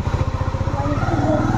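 A motorbike engine runs close by with a fast, throbbing putter that rises slightly in pitch as it revs, loud and continuous throughout.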